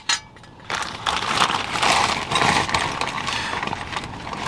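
Close metallic clicks and scraping as a single bolt is started into the transmission bellhousing during an LS engine swap on a Buick, with mechanical rattles continuing through the clip.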